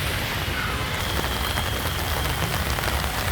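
Heavy rain falls hard in Pune, making a loud, unbroken wash of drops striking the ground and nearby surfaces, with no voices.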